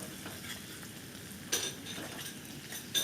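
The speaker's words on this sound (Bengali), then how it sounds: "তেলের ওপরে পেঁয়াজের সঙ্গে ভেজে নেব পেঁয়াজ আর এই ধনে পাতা ভাজলে পরে একটা খুব সুন্দর গন্ধ বের হবে" Onion and coriander leaves fry gently in oil in a pan, a low, quiet sizzle with two brief stirring scrapes partway through and at the close.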